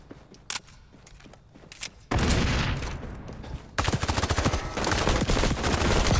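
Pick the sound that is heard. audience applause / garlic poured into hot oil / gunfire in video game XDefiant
gunfire in video game XDefiant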